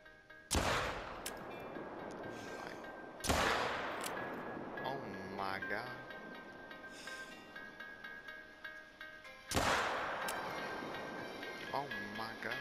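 Gunshots in a hunting video game: three loud, sharp reports spaced a few seconds apart, each followed by a rolling echo, with someone talking in between the shots.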